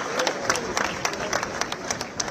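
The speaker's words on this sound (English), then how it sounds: "please can we give that round of applause one more time" A crowd applauds at a funeral gathering attended by the Nigerian president, dense close clapping sustained across the whole stretch.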